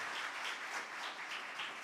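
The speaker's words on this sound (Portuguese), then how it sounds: "E eu quero que você aplaude ao Senhor pela vida do pastor Luiz." Congregation in a church applauding together, a steady, dense wash of many hands clapping with no gaps, moderately loud and even throughout.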